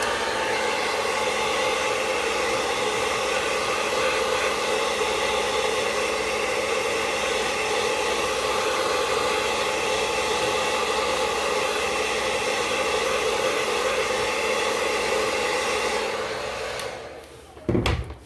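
Heat tool blowing steadily to dry wax on a craft pumpkin, a loud continuous airy roar held for many seconds before cutting off with a brief clatter.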